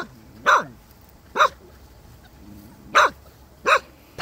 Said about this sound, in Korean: 제작진이 다가가자 경계를 하며 이빨을 드러내는 오순이